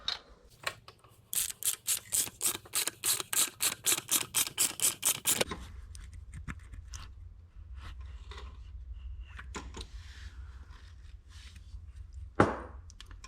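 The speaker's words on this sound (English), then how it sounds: "put the bearing puller on. It should pull off." Bearing puller being wound on a Land Rover 200tdi diesel engine, a fast run of evenly spaced ratchet clicks, then a lower grinding mechanical strain and a sharp knock near the end.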